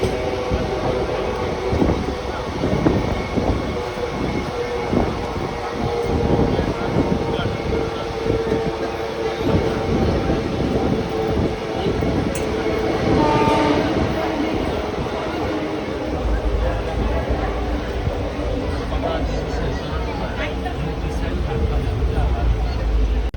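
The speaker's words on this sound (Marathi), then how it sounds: "ट्रॅक चेंज करून ट्रेन आता प्लॅटफॉर्मला लागते आहे" A passenger train on the Virar–Gholvad line rumbles steadily as it changes track and pulls into Dahanu Road station, with clattering wheel bursts early on giving way to a smoother low roll, and voices heard faintly over it.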